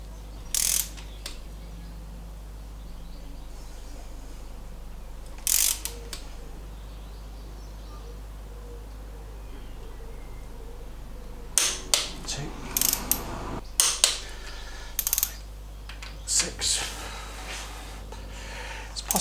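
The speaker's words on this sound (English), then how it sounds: "Possibly a slightly short wrench." A wrench tightens cylinder head bolts on an MGB engine, making short bursts of ratcheting clicks. The bursts are separated by quiet pauses over a low steady hum, with a denser cluster of clicks near the end.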